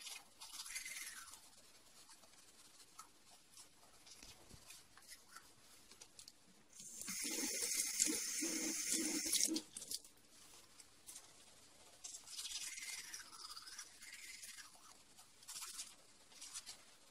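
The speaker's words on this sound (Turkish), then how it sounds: "Yemeğimi yedikten sonra da dişlerimi fırçalıyorum." Someone brushes their teeth at a sink with quiet, faint scrubbing, then the tap runs in a louder burst of water for a few seconds.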